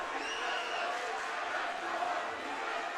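Basketball crowd at a high school boys' game, PC Men versus Portage Northern, roaring steadily and at a distance for the whole stretch with no break in the noise.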